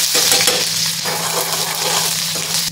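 Finely chopped onion hits hot oil already crackling with mustard seeds and cumin, giving a loud, close, continuous sizzle and fry with stirring scrapes throughout and no talking.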